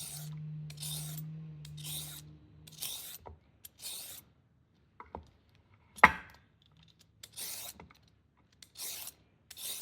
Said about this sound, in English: Today, I'm chopping some carrots, potatoes, and 3/4 of an onion.